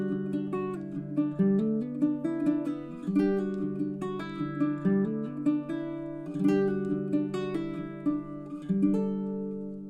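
A baritone ukulele plays a short improvised riff of plucked notes and strummed chords in a loose, ringing rhythm. The instrument is heard alone, close and fairly soft, with notes decaying between phrases.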